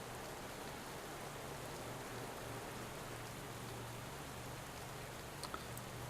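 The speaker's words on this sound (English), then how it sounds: "We do have these rainy conditions, so here we are again with the weather playing a factor." Steady rain noise during a road race in the Pro Cycling Manager 2017 video game, a constant broadband hiss with a faint low hum running beneath, no talk.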